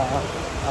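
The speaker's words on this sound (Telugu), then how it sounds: "వర్షం ఎక్కువైంది మళ్ళీ." Heavy rain pours down along a hillside trekking route lined with roadside hotels, a dense, steady hiss of downpour filling the short moment.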